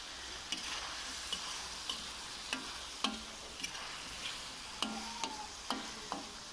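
Chopped tomatoes being mixed into Peshawari-style charsi chicken karahi over high flame, with faint, evenly spaced scraping and tapping strokes over a low, quiet sizzle.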